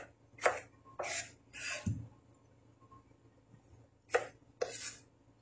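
Potatoes are chopped on a board with a knife, five sharp close chops in two bursts, three, then a pause, then two more, loud against a quiet room.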